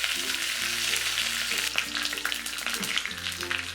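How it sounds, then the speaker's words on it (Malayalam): Mustard seeds, urad dal, dried chili and curry leaves spluttering in hot oil for a tempering, a loud dense crackle with rapid popping bursts, close and continuous, over a low background hum. "1/2 ടീസ്പൂൺ കടുകിട്ട് പൊട്ടുമ്പോൾ 1/4 ടീസ്പൂൺ ഉഴുന്ന് പരിപ്പിട്ട് കൊടുക്കാം."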